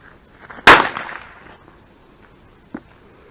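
A backyard firework launches with one sharp, loud crack, then a hissing, fading trail and a faint pop about two seconds later.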